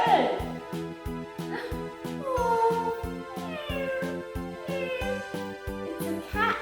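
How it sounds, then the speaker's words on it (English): A cat meows several times in separate, drawn-out calls, with a regular tapping rhythm underneath throughout. "It's a cat."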